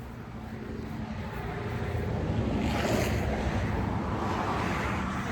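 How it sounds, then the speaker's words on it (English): Water spraying from a hand spray bottle onto OSB board while chinking a log cabin, a steady broadband hiss that continues for the whole stretch and grows slightly louder, heard alone without talk. "Spray bottle."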